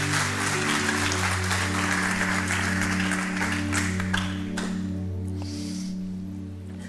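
A church congregation applauding, a dense, loud wash of clapping over sustained keyboard tones that thins and fades out after about four and a half seconds.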